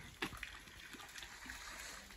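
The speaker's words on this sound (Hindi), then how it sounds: "ये अपना पहाड़ का नौला, ये देखो नेचुरल पानी है" Natural mountain spring water from a stone naula on the trail to Tungnath, trickling and splashing faintly and steadily in the open, with a brief sharper splash near the start.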